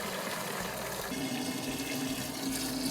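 Water runs steadily from a tap into a plastic Wonder Wash hand-crank clothes washer, a continuous splashing hiss whose pitch rises slightly as the drum fills, with no voices.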